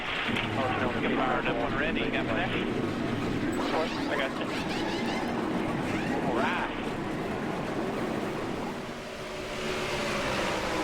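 Race car engines roaring together at the start of a Daytona race in a racing video game, a dense continuous drone that stays loud and steady throughout, with no clear talk.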